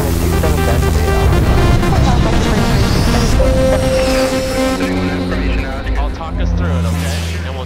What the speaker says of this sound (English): the start sequence for the Vision Jet's Williams International FJ33 turbofan is just so streamlined and cool